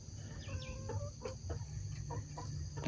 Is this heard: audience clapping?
no